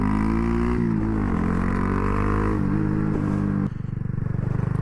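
A Grom motorcycle fitted with a 402 Innovations carbon fiber exhaust runs up close and loud, its engine note droning and shifting in pitch before dropping into a lower, rapid pulsing throb near the end, with no talking.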